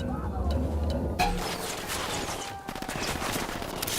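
Gunfire in the video game Ghost Recon Wildlands, bursts of automatic shots crackling in rapid succession from mid-distance, mixed with game ambience and a brief voice at the start.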